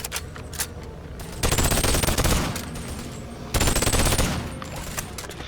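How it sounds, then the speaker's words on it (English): Two loud sustained bursts of automatic gunfire from a ranged weapon fired from the hip in a video game, each lasting about two seconds, separated by quieter ambience. "Most of that was hip firing"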